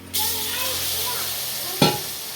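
Masala spices sizzling and frying in a hot pan, a steady close crackle starting abruptly, with a brief louder hiss burst near the end as something is stirred or added.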